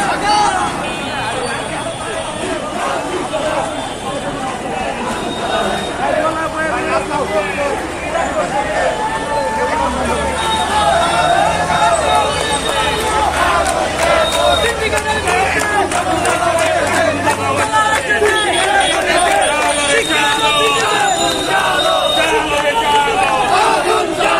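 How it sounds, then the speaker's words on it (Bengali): A large student crowd at a road-blockade protest march in Dhaka, loud and continuous, with massed chanting, shouting and babble of many voices filling the whole stretch close by. "ঢাকা সেন্ট্রাল ইউনিভার্সিটি আজকে রাস্তা অবরোধ মিছিল তারা আছে"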